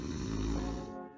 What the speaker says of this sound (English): all the soft tissue around your throat vibrates, causing that awful snoring sound